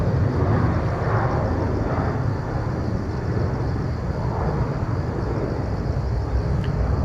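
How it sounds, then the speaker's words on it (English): A China Southern Airbus A320 landing at Incheon airport, a broad steady jet roar heard from a distance, continuous and moderately loud without pause. "What just landed? China Southern from Dailan, Airbus"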